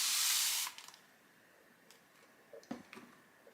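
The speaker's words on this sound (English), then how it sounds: "we'll take the spray bottle and we're going to give it a spray" A spray bottle misting water onto a watercolour painting: one loud sustained hiss of spray at the start, then quiet with a few faint taps and small handling sounds.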